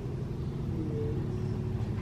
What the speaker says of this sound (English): I can hear his car.